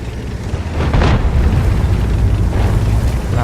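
A tank gun firing in the World of Tanks video game, heavy low booming blasts with rumbling decay, loud and dense, one strong report near the start followed by sustained rumble.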